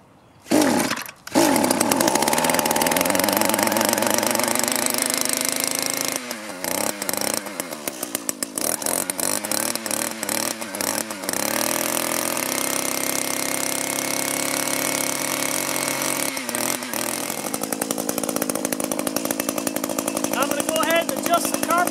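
An Echo two-cycle trimmer engine starts after a couple of pulls and runs loud and buzzy, revving up and dropping back several times before settling.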